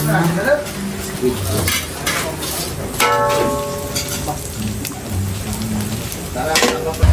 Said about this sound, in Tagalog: Ayan po at nagpiprito na si Adjo ng squid ball at saka po ng kikiam.